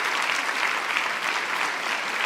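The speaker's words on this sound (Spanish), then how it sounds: "Un aplauso para usted, querida hermana." Loud, close, continuous applause from a church congregation honoring a 93-year-old woman, many hands clapping in a dense, even roar with no speech over it.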